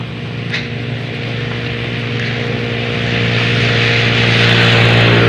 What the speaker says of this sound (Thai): เสียงรถเนาะพี่น้องเลยค่ะ